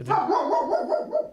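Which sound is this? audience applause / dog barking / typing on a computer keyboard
dog barking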